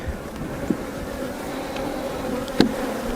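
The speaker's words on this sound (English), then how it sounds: "You guys see those bees just launch off the frame at me?" A steady buzz of many honeybees close by around an open hive hums throughout, with a couple of brief knocks.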